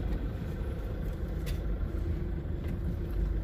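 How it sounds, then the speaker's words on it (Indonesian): Vehicles queue in a traffic jam at Bakauheni port on a holiday Sunday, a steady blend of engines and road rumble close by with a couple of faint clanks, no voices. "Pelabuhan Bakauheni macet nih"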